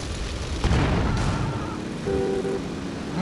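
A heavy booming car explosion in the video game GTA Vice City rolls out over a constant rumbling engine-like roar, followed by a short steady tone near the end.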